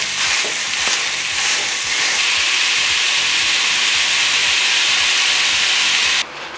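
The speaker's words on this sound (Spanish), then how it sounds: "En un sartén caliente vamos a poner a cocinar la sausage." Steady, loud sizzling of sausage frying in a hot pan, a continuous crackling hiss with occasional pops, ending with a brief drop near the end.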